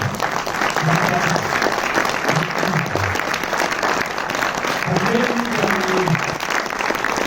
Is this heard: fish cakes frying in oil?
no